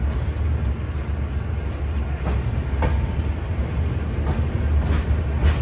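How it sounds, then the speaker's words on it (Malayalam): Humsafar Express train pulling out of Shri Ganganagar station, heard from inside a 3AC coach: a steady low rumble of the moving carriage with occasional faint clicks and knocks from the wheels. "ശ്രീഗംഗാനഗർ റെയിൽവേ സ്റ്റേഷനിൽ കറക്റ്റ് 1:55 തന്നെ തിരുച്ചിറപ്പള്ളി ഹംസഫർ എക്സ്പ്രസ് എടുത്തിരിക്കുകയാണ്"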